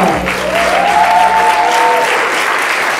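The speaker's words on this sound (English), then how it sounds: "Round of applause for Shell." A theater audience at a stage play gives Shell a round of applause during the cast introductions. The clapping is loud and sustained, with whoops and cheering voices mixed in, and it stays full throughout.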